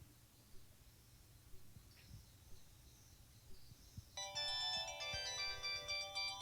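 A mobile phone ringtone starts abruptly partway through and keeps chiming a bright, repeating melody, loud over a quiet, low room hum.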